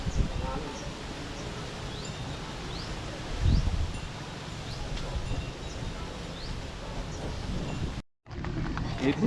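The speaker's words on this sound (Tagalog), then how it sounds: "Ang lakas ng hangin." Strong wind rushing through leaves in a constant rustling roar, with a brief gust swelling midway and faint bird chirps.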